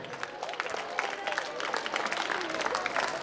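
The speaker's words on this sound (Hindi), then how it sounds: "एक बार जोरदार तालियां बच्चों" Crowd of schoolchildren applauding the principal at a school alumni meet, a dense steady wash of many hands clapping at moderate level throughout.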